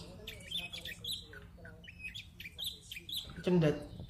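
Long-tailed shrike (cendet) calling, a series of sharp chirps and harsh scratchy notes, fairly close, ending in a louder squawk, with faint background noise.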